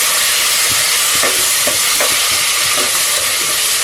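Curry leaves and finely chopped tomatoes sauté in a pan with a loud, dense hiss of sizzling oil, punctuated by faint periodic taps of a stirring spoon.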